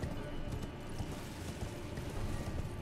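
A horse galloping in the video game Elden Ring, a steady muffled drumming of hooves at moderate level running continuously through the moment, without speech.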